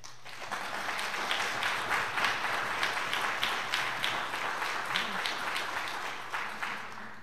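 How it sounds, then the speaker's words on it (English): A church congregation claps for their pastor at a 136th anniversary service, a sustained, dense round of applause filling the sanctuary with steady, even intensity and no talk over it. "give your pastor a round of applause"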